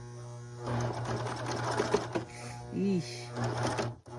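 A serger labours as it stitches through denim, giving a steady mechanical whir with rapid rhythmic needle clatter that strains and shifts in speed. A voice makes a brief exclamation over the machine.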